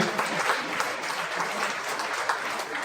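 Steady applause from an audience welcoming painters onto the stage at a Mahatma Gandhi memorial day seminar in Coimbatore, a dense even clapping that holds throughout without a break.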